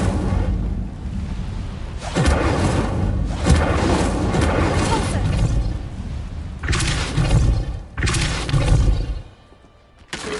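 An Incendio fire spell is cast in Hogwarts Legacy, bursting into loud roaring, crackling whooshes in several long surges that cut off abruptly near the end.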